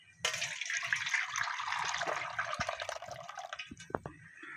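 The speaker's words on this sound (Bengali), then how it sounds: "ঝোলটা ছেঁকে নিচ্ছি" Chicken biryani broth strained through a sieve, a steady splashing pour of liquid with dripping toward the end, close and fairly loud with no voices.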